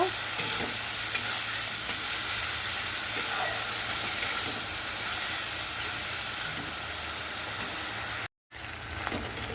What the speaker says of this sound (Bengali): চিংড়ি মাছের মধ্যে একটা লোটে মাছও এসছে ওটাও আমি দিয়ে দিলাম আর দিয়ে দেব এবার একটু হলুদ বেশ সুন্দর করে একটা ভেজে নেব